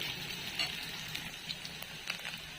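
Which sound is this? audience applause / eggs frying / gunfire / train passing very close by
eggs frying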